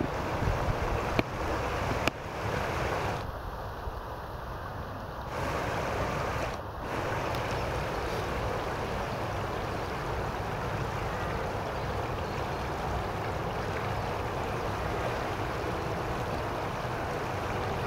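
Fast-moving flooded river water several metres deep rushes past a submerged fallen tree, a loud, continuous broadband roar heard close, with a few brief thumps and wind buffeting early on and no talk.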